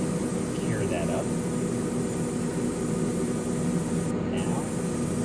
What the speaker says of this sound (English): Now I'm going to spray some air, cure that up.